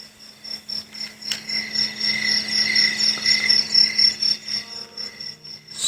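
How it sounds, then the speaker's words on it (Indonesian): Crickets and other night creatures chirping, a dense, loud, pulsing chorus of shrill trills rising and falling in quick waves, with no talk. "Cari Cangkas, Gaang, Jangkrik, dan satwa-satwa malam yang lainnya seperti terus bersuara"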